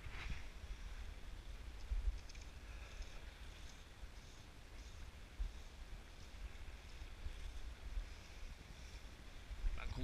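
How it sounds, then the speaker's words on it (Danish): Wind rising over open water, a steady rushing roar with low rumbling gusts and microphone buffeting, broadband and continuous with faint wave wash and no voices. "Frisker det lidt over vind igen."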